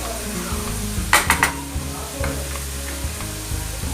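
Samosa potato filling sizzles and fries in a pan, with a steady crackle and low hum underneath, broken by a few sharp metallic clinks of a spoon against the pan midway.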